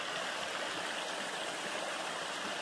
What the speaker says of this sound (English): And here is a beautiful stream.